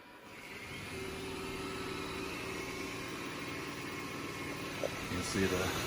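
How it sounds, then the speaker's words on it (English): A Dreame W10 robot vacuum and mop runs a room-cleaning cycle with its mopping pads spinning, giving a steady, moderately loud motorized whir and hum that holds evenly throughout, with a couple of brief knocks near the end. "You can see the mopping pad spin quite quick."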